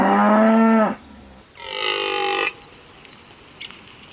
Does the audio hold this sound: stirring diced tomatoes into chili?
no